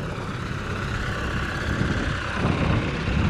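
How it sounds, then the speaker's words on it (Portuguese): LS Plus 80 tractor working on soft, sandy ground during heavy harrowing, its engine a broad, rough rumble at moderate distance that swells slightly toward the end. "esse trator aqui é aquele LS Plus 80"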